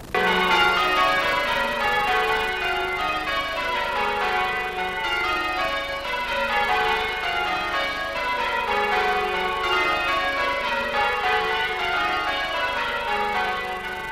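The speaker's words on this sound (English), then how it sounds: "There was a bell ringing practice going on" Church bells at a bell-ringing practice at St. James's Church, Bermondsey, pealing in continuous overlapping rounds, a steady cascade of tolls ringing alone without voices.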